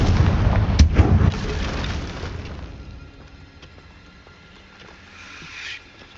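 A Confringo fire spell explosion in Hogwarts Legacy bursts as a loud, close boom at the start, then fades into a low crackling rumble and quieter ambience.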